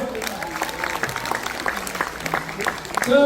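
Audience applause for a named guest at a Korean gathering, a dense patter of hand claps filling the room at steady strength, swelling louder near the end, with talk running faintly over it.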